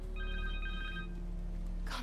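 Cell phone ringing in the video game Spider-Man 2, a steady electronic ring tone of repeated trilling tones that fades out after about a second, over a continuous low hum, with no one talking.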